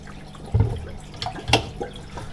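Water splashes and trickles in a few short bursts close by, like liquid being poured into a container.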